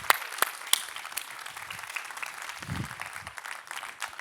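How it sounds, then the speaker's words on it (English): A conference audience claps at a talks event, scattered and fairly quiet applause with a few sharp close claps at the start and low murmuring mixed in. "Give them a big round of applause, everyone."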